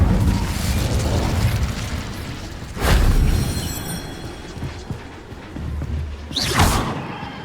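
Incendio fire spell cast in Hogwarts Legacy, heard as two sharp, whooshing fiery bursts a few seconds apart over a steady game background rumble.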